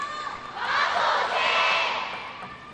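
A table tennis arena crowd at a World Cup match between Hugo Calderano and Wang Chuqin, roaring and shouting in a loud, dense swell that builds and fades over a few seconds.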